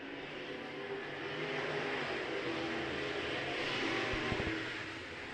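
IMCA modified race cars roar out of turn four on a night dirt track, a steady loud engine drone from the pack filling the whole stretch.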